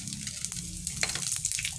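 Whole cumin seeds crackling in hot oil in a kadai alongside bay leaf, dry red chillies and whole garam masala during tempering for a vegetarian cauliflower, potato and pea curry, a steady close sizzle with small pops throughout.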